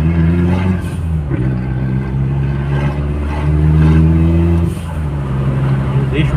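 An Audi A3 turbo with 250 cv revs hard as its tyres spin, a loud sustained engine drone that climbs and falls in pitch, with someone talking over it.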